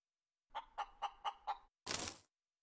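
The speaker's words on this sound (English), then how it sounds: "I just fucking killed a chicken." A chicken in the space-survival game Breathedge gives five quick, evenly spaced clucks, followed by a short harsh squawk, clear and isolated against silence.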